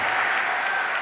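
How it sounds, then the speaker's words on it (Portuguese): Church congregation applauding, a dense steady patter of many hands clapping at even loudness throughout a short stretch, with no talk over it. "E enquanto você aplaude, abra a tua boca e diga: glória ao teu nome, Senhor."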